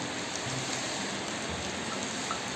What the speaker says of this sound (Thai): บรรยากาศฝนตกค่ะ